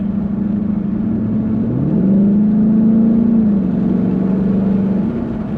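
A 2017 Ford Mustang GT V8 accelerating on the road, a loud, steady low engine drone that climbs in pitch midway, dips, then holds an even tone, heard alone from inside.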